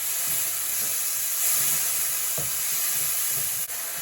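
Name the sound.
mushrooms stir frying in a pan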